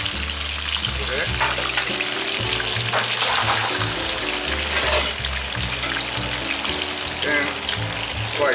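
Garlic sizzles and crackles steadily in a hot pan for a vongole bianco, a continuous close frying hiss with light stirring clatter and no talk.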